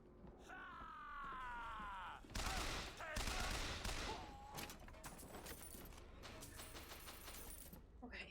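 Bursts of gunfire in Bioshock Infinite, with rapid shots and sharp crackling volleys through the middle and end of the clip, plus creaking mechanical game sounds early on, loud and close.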